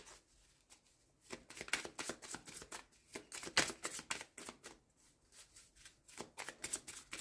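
Tarot cards shuffled by hand in several quick riffling bursts with brief pauses between, close and fairly quiet, with no talk.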